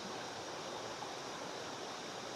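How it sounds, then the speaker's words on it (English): A stream in Springbrook National Park, Queensland, flows as a soft, steady broadband rush, even and unbroken with no voices. "Something about listening to water is just so relaxing."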